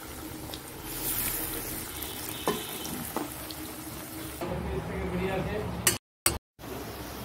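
Onion fritters and potatoes fry in oil with a continuous sizzle and a few light clinks of a utensil; someone speaks over it before the sound cuts out briefly near the end.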